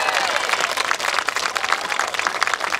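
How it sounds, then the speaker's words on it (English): A crowd at an outdoor groundbreaking ceremony for a new high school applauds the Herbert Hoover Band, dense continuous clapping filling the whole stretch at close, loud level. "I also want to recognize the wonderful band, the Herbert Hoover Band. Round of applause for that."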